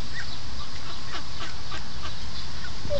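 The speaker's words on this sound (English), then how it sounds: "Look at all the ducks." Ducks quacking outdoors, several short calls scattered over steady background noise, moderately near.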